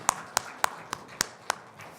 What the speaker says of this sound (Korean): 하나님께 감사의 박수 올려드릴까요?